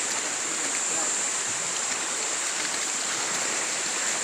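Steady, loud rush of fast-flowing water, a continuous broadband roar close by with no pauses, like a strong river current.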